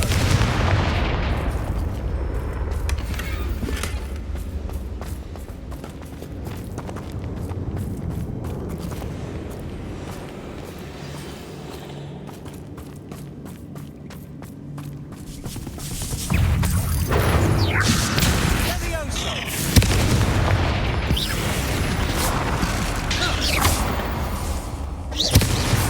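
Repeated Confringo spell explosions in Hogwarts Legacy fire as loud booming blasts and whooshes over a low rumble, with rapid crackling bursts in between and a fresh barrage in the last ten seconds.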